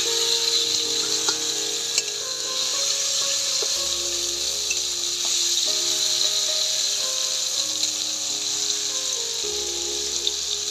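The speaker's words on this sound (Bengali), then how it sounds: "বেগুনটা আগে ভেজে তুলে দেবে।" Brinjal frying in mustard oil over a wood fire in a village kitchen, a steady sizzle with faint crackle running throughout, no talking.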